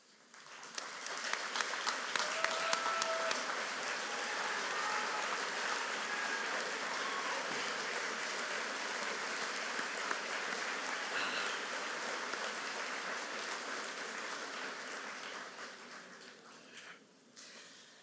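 A large crowd applauds at a high school graduation for a long stretch, dense clapping swelling early then holding steady before tapering off near the end.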